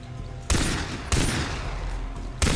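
Three loud gunshots ring out at uneven intervals in the video game Far Cry 3, each a sharp crack followed by a long, noisy echoing tail.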